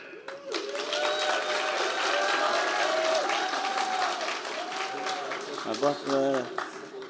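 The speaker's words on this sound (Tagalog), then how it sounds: "malakas ang palakpak" Loud audience applause fills a hall at a Filipino community gathering in San Francisco, sustained clapping from a large crowd with a voice talking over it near the end.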